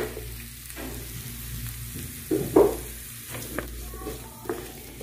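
Chopped shallots fry in hot oil for a tomato curry, a soft steady sizzle with a few louder stirring scrapes and clinks near the middle and later, close by and without speech.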